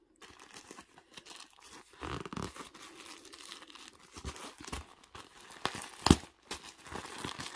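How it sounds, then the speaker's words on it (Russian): A plastic AliExpress parcel holding a pet bed being torn open by hand, with irregular bursts of ripping and crinkling plastic, close and fairly quiet, and one sharp louder tear near the end. "Ножницами пользоваться я не буду, я просто разорву"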